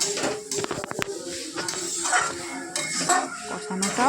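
Curry simmers and is sautéed with added sauce in a pan, bringing close metal scrapes, spoon clinks and clatters against the pan over a soft bubbling sizzle, with a brief voice in the background.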